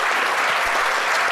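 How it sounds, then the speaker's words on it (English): An audience at an evening humanitarian engineering panel event gives the panellists a brief burst of dense, loud applause that fills the whole moment without any talking. "can I please have a round of applause for our panellists joining us here tonight?"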